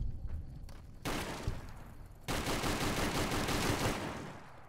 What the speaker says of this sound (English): This is the worst fucking shotgun.